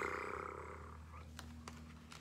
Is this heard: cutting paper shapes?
no